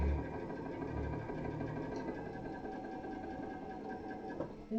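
A sewing machine runs steadily while top stitching around pelmet fabric, a continuous close mechanical whirr with a fast rhythmic needle chatter that holds its pace throughout.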